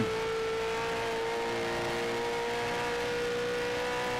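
V8 race car engine in iRacing at Phillip Island Circuit, a steady high-revving drone held at near-constant pitch, fairly faint and alone.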